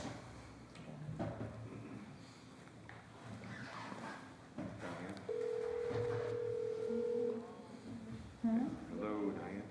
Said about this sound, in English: we're gonna hang up this phone and call you on just my cell phone